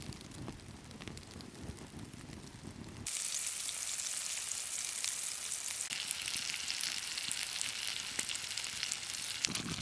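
Pork chops fry in a pan at a campsite, a steady close crackling sizzle that jumps louder and brighter partway through and holds to the end, with no talk.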